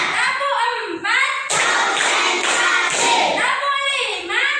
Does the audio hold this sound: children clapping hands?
yes